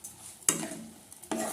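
Grated carrot halwa gets stirred with sugar in a pan, producing two brief scraping stirs with a soft sizzle and a faint utensil clink, close and alone.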